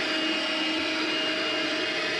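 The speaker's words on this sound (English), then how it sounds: "Don't forget to vacuum." A vacuum cleaner runs with a steady, loud, continuous whine while cleaning up under a kitchen sink after a new InSinkErator waste disposal unit is installed, with no talking.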